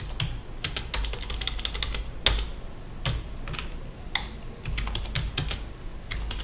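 Someone types on a computer keyboard in quick, irregular bursts of sharp clicking keystrokes, with a few louder key presses standing out and short pauses between runs, close and clear with no talking.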